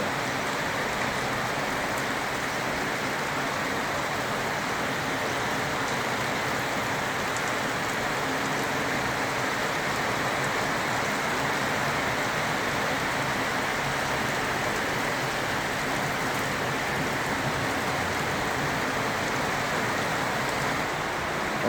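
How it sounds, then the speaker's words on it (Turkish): Steady, heavy rain pours down continuously, a dense hiss of drops drumming on surfaces with no pauses and no voices. "Bayağı hızlandı yağmur. Bayağı hızlı yağıyor. Çok güzel yağıyor."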